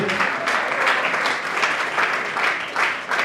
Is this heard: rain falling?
no